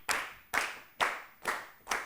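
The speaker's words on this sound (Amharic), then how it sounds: "አጨብጭቡላት።" An audience on a children's TV quiz show claps in unison for a contestant, five evenly spaced, crisp claps at a brisk, steady beat, fairly soft, with no talk.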